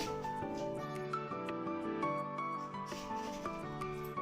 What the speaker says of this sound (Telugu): ఈ మామిడికాయల్ని ఇప్పుడు చెక్కు తీసి పెట్టుకుందాం ఈ విధంగా చెక్కు తీసి పెట్టుకోండి